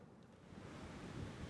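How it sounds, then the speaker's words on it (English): Sea waves wash onto the beach at Visakhapatnam (Vizag), a faint, steady surf roar with no distinct breaks, heard alone. "I could always hear the sound of the waves, what you hear behind now."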